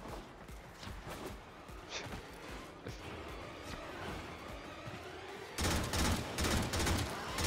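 Rapid gunfire from a gun in the video game Warframe crackles in repeated bursts, growing denser and louder in the last couple of seconds.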